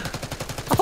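Rapid automatic gunfire from the video game Black Ops 6, a quick burst of evenly spaced shots ending in a louder crack, heard alone without talk.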